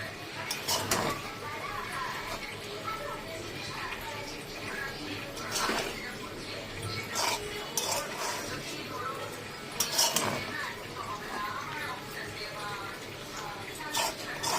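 Fried rice with spices is stirred in a pan with a spatula, giving repeated light metallic clinks and scrapes at an uneven rhythm over a sizzling background, while a voice speaks nearby.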